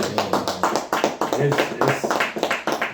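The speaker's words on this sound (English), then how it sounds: "We can clap it up for that" Several people clapping together in a room during a casual interview, a dense run of sharp, close hand claps mixed with talk and laughter.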